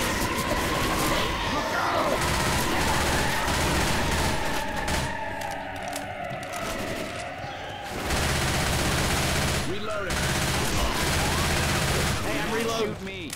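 Sustained bursts of gunfire from the zombie shooter game Left 4 Dead 2, with dense rapid volleys and shots running throughout and a brief dip in the middle, mixed with game noise and some voices.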